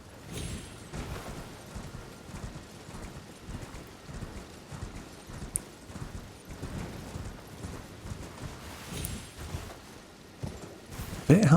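Horse hooves in the video game Elden Ring, a steady rhythmic clip-clop of galloping repeating throughout, moderately loud over faint ambient background, with a sharper noise at the end.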